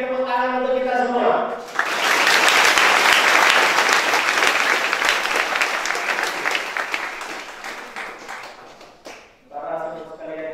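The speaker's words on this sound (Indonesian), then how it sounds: "Sekali lagi tepuk tangan untuk kita semua." A crowd bursts into loud, sustained applause lasting several seconds, with a person speaking briefly before and after it.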